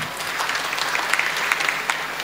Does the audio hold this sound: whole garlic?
no